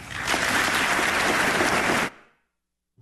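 Dense, loud applause from a chamber full of lawmakers in the U.S. Congress, a continuous wash of clapping lasting about two seconds before cutting off abruptly into silence.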